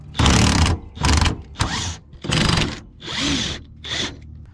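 A cordless impact tool whirs and rattles in six loud bursts of varying length, removing the drive shaft bolts on a Nissan 300ZX convertible, with short pauses between each close-up run.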